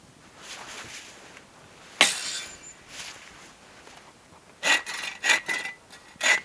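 A saw cuts into a standing dead tree for firewood in a winter wilderness camp, with a single rasping stroke followed later by a quick run of four or five short, fairly quiet strokes.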